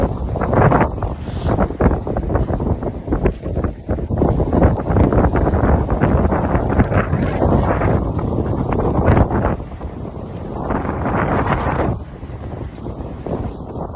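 Strong wind on a coastal hike in New Zealand buffets the microphone in loud, continuous roaring gusts, easing slightly near the end.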